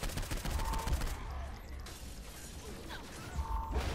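A weapon being reloaded in Saints Row 4, heard as mechanical clicks and clatter amid bursts of gunfire that drop away briefly in the middle and return near the end.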